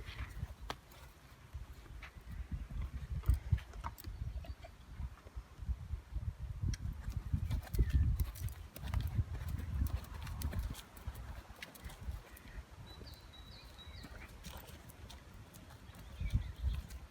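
A warmblood horse walks under saddle during a ride, hooves striking in a steady, close clip-clop rhythm that carries on throughout at moderate loudness.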